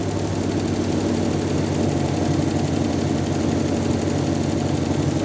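A 1957 Chevy V8 that has sat for over 40 years runs steadily up close, a continuous loud engine drone with a slight rise as it is revved.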